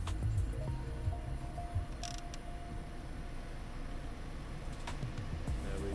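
A Vauxhall Crossland X heater blower fan runs at full power inside the car, giving a steady, quiet rush of air with no voices.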